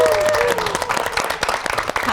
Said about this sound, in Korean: 용감한 엄마 그리고 멋진 아들을 큰 박수로 모시겠습니다